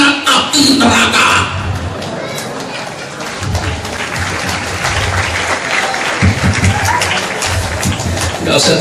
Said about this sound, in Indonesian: Gak usah tepuk tangan dah